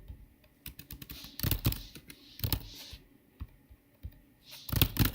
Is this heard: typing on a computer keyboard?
yes